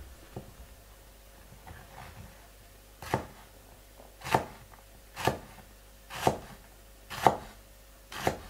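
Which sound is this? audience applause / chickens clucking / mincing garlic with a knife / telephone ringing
mincing garlic with a knife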